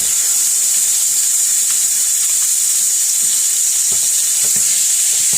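Ground beef sizzles and fries in a hot pan, a loud continuous hiss with a few scraping stirs and pops near the end, with no voices.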